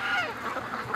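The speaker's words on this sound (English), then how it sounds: "We got the geese behind us." Geese honk near a lake, several overlapping nasal calls at moderate distance running steadily through the moment, with no speech over them.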